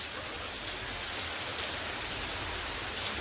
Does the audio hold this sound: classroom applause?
no